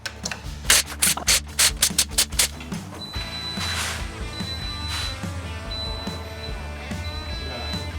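Rapid bursts of an impact gun working on the wheel nuts of a BMW 330Ci at the roadside. The rattling hammering comes loud and close in quick pulses, then gives way to steadier mechanical noise.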